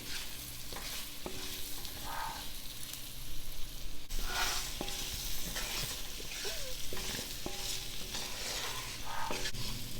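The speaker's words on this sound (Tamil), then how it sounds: "இப்போ ஆயிலே நல்லா ஃப்ரை ஆகட்டும். ஒரு 5 மினிட்ஸ் நல்லா ஃப்ரை ஆகட்டும்." Baby potatoes coated in masala fry in oil with a continuous close sizzle, broken by intermittent spatula scrapes and stirring taps against the pan.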